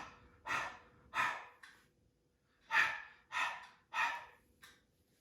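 A voice imitates breathing on a cold day, a series of six soft, breathy "h" exhalations in uneven rhythm, close and quiet with short pauses between them.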